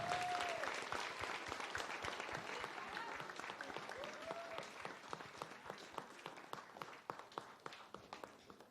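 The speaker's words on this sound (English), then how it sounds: "Please clap applause for them." Audience at a school award ceremony for a debate and reading quiz claps in steady applause, dense at first and thinning toward the end into scattered individual claps.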